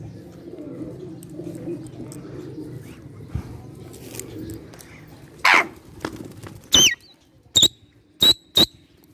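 A puppy yapping at pigeons at a Karachi pigeon loft: soft cooing and rustling at first, then five loud, sharp yips in quick succession near the end.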